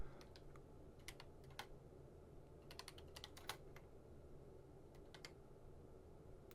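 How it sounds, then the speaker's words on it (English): Keys clack on a Tandy Color Computer 2 keyboard in quick irregular bursts, sharp close clicks separated by short pauses over a quiet room hum, with no talking. "now let's switch to the CoCo and type some things"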